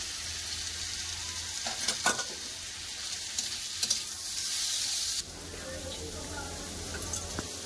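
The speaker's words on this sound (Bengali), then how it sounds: "ওলকপি ভাজা হচ্ছে" Grated kohlrabi fries in a pan with a steady hiss and crackle, occasional stirring scrapes, then the sizzle drops lower midway, with a voice talking over it.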